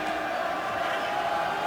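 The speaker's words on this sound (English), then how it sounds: "Crowd getting restless." Restless Buffalo crowd at the UFC 7 mixed martial arts event, a continuous murmur of many voices with scattered shouts, steady and moderately loud throughout.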